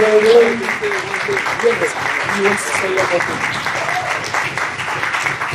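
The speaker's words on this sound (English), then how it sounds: "just give a big applause" Audience applause at the close of a dance talk event in Berlin, steady dense clapping over the full stretch with a few voices and cheers mixed in underneath.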